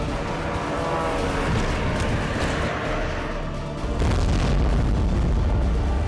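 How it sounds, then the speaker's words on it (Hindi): Russian drones strike a building in Ukraine, and heavy explosive rumble and roaring blasts fill the air, loud and sustained, with a stronger low boom rising near the end. "जिस इमारत से एक के बाद एक रूसी ड्रोन टकरा रहे हैं"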